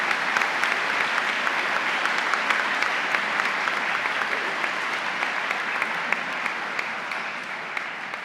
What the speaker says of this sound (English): I want to give them a round of applause for their support of the program.